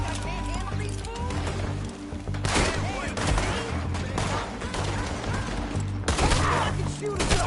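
A gunfight in Red Dead Redemption 2 fires rapid rounds of loud, close gunshots in bursts throughout, with characters shouting and talking over the shots.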